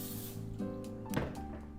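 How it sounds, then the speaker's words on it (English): Spray oil is misted onto a baking base while meal-prepping in a kitchen: a faint, short hiss of the spray nozzle with a soft clatter, quiet and close, with no talking. "let's get some spray oil on the base here"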